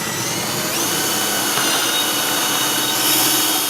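A power drill bores a hole through the center of a scale model escape pod kit part, its steady high whine running loud and continuous for several seconds with slight shifts in pitch as the bit cuts.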